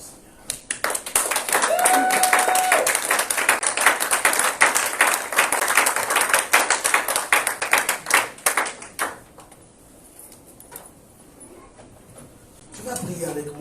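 A church congregation at a Sunday worship service claps loudly and steadily for about eight seconds, with cheering mixed in, before the applause fades under quieter room sound and a voice returns near the end.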